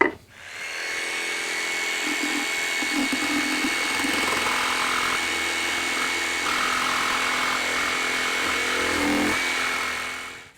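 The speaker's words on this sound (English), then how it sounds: "might as well use the jigsaw to cut it out" A jigsaw cutting a marked shape out of a board for a French cleat tool holder, a loud, steady buzzing whine close up that runs for about ten seconds with slight shifts in pitch as the blade bites.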